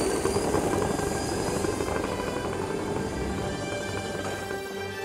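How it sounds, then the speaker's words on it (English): A giant radio-controlled Magnus-effect aircraft's motor drones steadily and loudly through a test hop, a dense continuous whir with a constant tonal hum holding throughout. "The world's largest RC Magnus-Effect aircraft was now flying"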